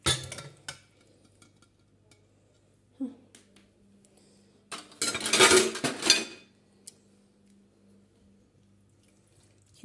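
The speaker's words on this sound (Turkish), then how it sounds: "Şunu da şöyle tencereme boşalttım tekrardan." Food is scraped and tipped into a metal pot, with a loud clattering burst of utensil and pot noise, then quiet kitchen hum.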